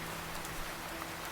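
Steady rain falls during a storm, a soft continuous hiss with faint scattered patter and no voices, close and even throughout.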